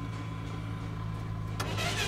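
A car engine runs with a steady low hum throughout, broken by a short burst of louder, rougher noise near the end, with no talking.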